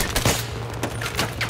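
Gunfire in the video game Battlefield 3 comes as rapid, loud bursts of shots in quick succession over a short stretch.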